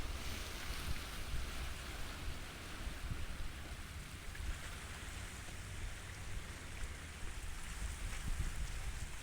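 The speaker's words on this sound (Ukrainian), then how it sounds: "Море." Steady, low rushing of sea waves in Greece with some wind noise, continuous and fairly distant, no voices.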